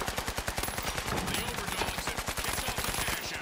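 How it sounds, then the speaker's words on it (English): Rapid automatic gunfire from snipers fighting in the video game The Finals, a dense steady stream of shots filling the moment at a moderate distance. "I hear snipers fighting."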